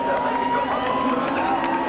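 A stadium crowd of more than 65,000 cheers at the start of the 1997 CART race in Cleveland, a broad steady roar of voices with a commentator speaking over it.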